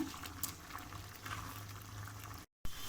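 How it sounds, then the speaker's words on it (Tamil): A pot of lentils and banana stem bubbles and simmers softly, with gentle popping over a low steady hum and a brief dropout near the end. "இந்த தண்ணி நல்லா வத்துற அளவு கொஞ்சம் கொதிக்க விடுங்க"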